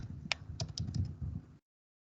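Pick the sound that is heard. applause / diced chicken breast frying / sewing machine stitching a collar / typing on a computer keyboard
typing on a computer keyboard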